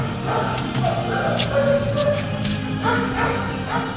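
A sniffer dog used by police to search a petrol tank gives several short yips and whimpering barks, close and fairly loud, with muffled voices in the background.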